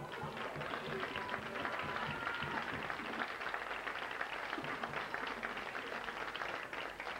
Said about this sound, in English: Fans applauding one of the Paris players